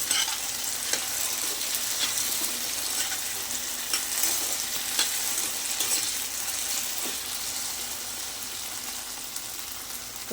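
A potato fry sizzles steadily in a pan, a dense continuous crackle with occasional light stirring scrapes, close and fairly loud, no talking.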